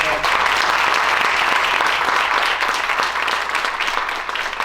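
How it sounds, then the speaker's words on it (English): Sustained audience applause at a 2023 Italian scholarships and awards ceremony, honoring scholarship recipients; dense, steady clapping filling the room throughout, fading slightly at the end. "A big round of applause for all of them."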